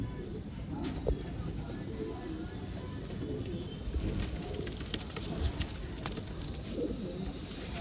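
Pigeons coo softly at a pigeon sale in Bangalore, under steady background noise and people talking nearby.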